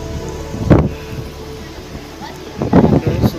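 Wind gusts buffet the microphone at a cold, foggy viewpoint above Taal Lake, producing a low rumble with two stronger bursts against a steady background hum.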